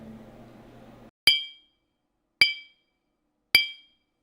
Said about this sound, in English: this is how our glass sounds naturally when it is empty, with nothing in it